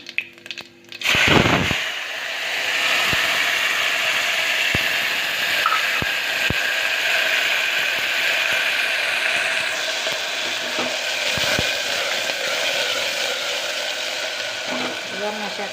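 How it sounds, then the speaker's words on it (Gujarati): Mustard, cumin and fenugreek seeds crackle in hot oil as tempering for a cluster bean and ivy gourd curry, a dense, sustained sizzle with sharp pops scattered throughout, loud and close. "ગુવારના શાકનો વઘાર થઈ રહ્યો છે."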